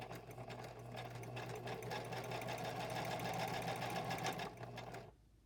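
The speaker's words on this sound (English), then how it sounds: "And this one I'm going to do some straight stitching." A sewing machine runs straight stitches in a steady, fast, mechanical whir with rapid needle clatter, heard up close for several seconds before cutting off abruptly.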